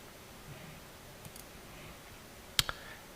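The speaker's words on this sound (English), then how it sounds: "So we click save" A mouse click saves a record in task-management software: one crisp, close click, then a fainter second tick, over a quiet room hush.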